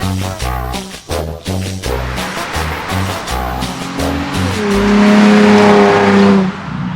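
A Nissan 350Z sports car engine, 126,000 miles on it, revs in a series of sharp throttle blips, then settles into a sustained loud, rising roar close by.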